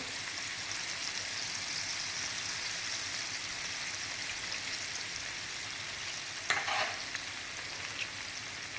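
Paneer sizzles steadily in a hot pan with red chili powder, a dense continuous frying hiss like rain, with a brief utensil clatter near the end.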